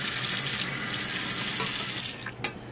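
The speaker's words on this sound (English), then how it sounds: "Now, I will take a little bit of water," Tap water runs into a can in a kitchen while cooking chicken biryani, a steady close splashing stream that tapers off near the end, followed by a small clink.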